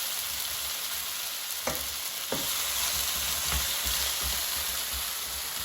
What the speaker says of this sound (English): the oil is sizzling. So now I'm going to reduce the heat to medium-high and also mix the pineapple so it cooks evenly.